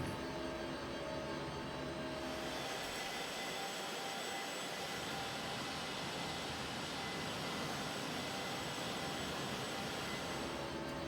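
An Embraer ERJ regional jet in the X-Plane 11 flight simulator taxiing toward the runway at San Diego International, its jet engines producing a loud, continuous whine and rumble that stays steady throughout with no talking.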